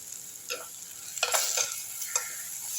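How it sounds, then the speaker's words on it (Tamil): Ground pepper and dry ginger paste sizzle and spit in hot oil in a pan for a spiced medicinal kuzhambu, with a few bursts of stirring as the paste hits the oil, fairly close and with no talk. "இந்த எண்ணெயில் போட்டுட்டு இந்த அரைச்சி வச்ச பேஸ்ட்டை இதில் ஊற்றிடலாம்"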